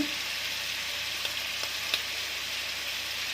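Chili, turmeric and cumin powders frying with spinach and shrimp in a pan, a dense steady sizzle with a few faint scrape ticks of stirring, close and continuous without voices.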